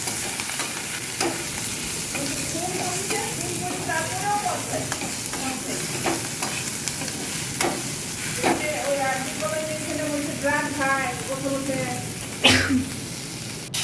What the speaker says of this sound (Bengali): তার জন্য পেঁয়াজ টমেটো আদা এসবগুলো ভাজা হচ্ছে